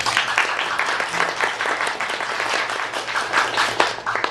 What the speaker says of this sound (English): It's wonderful to hear the applause